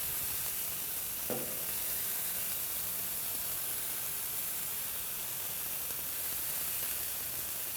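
Pineapple chicken skewers cook on a grill with a constant, even hiss and sizzle, while a single brief soft tap comes from brushing sauce over them.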